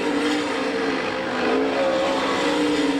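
A sprint car, the 88H, races on a dirt track at the All Star Circuit of Champions Winternationals in Gibsonton, Florida, with a loud sustained engine whine that wavers in pitch as it holds the throttle, close and continuous.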